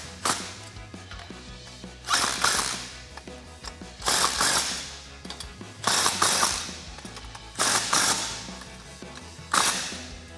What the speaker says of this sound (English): I'll grab my 14mm socket and tighten these down